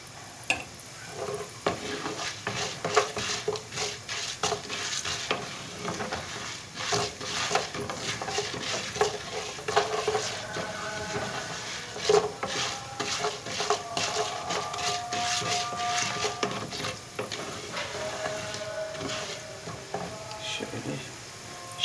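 Food is stirred and fried in a pan, with a soft continuous sizzle and frequent scraping stir strokes repeating throughout at close range.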